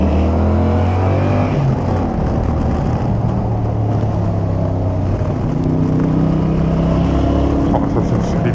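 Yamaha R7 motorcycle with an aftermarket exhaust line, heard while riding: a loud, steady engine drone with shifting pitch under constant wind rush, close and continuous throughout.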